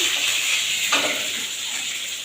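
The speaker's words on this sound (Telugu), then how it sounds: "కరివేపాకు వేసుకోవాలి సరిపడా వేసుకొని మంచిగా కలిపేసి" Curry leaves hitting hot oil with fried green chillies while cooking mango semiya upma, a steady bright sizzle with a brief sharper crackle burst near the middle, close and continuous.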